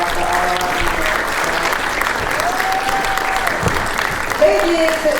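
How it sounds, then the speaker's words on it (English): A crowd at a hackathon opening ceremony applauds steadily and loudly, with cheers and whoops rising over the dense clapping throughout. "So can we get a round of applause for all of our leaders?"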